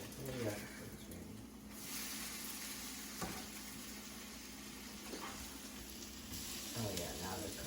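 Food sizzling in a hot frying pan, a steady moderate hiss throughout with a few clinks of utensils and background voices.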